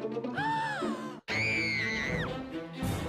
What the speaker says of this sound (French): C'est quoi tous ces cris?